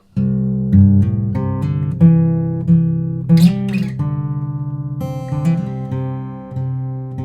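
Fingerpicked acoustic guitar plays a break, a steady run of clear, ringing plucked notes over a sustained low bass, with a brief brighter flourish midway, close and alone throughout.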